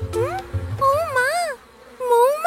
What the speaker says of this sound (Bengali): এই মৌমাছিরা বৃষ্টি নামার খবর বয়ে এনেছে